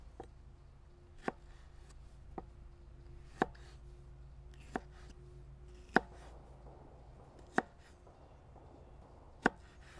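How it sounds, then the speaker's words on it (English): A knife finely chops two hot peppers, cut into long strips, on a board. About eight sharp, separate hits land at uneven intervals, close and clear against a quiet background. "now what I'll do is just give them a fine chop"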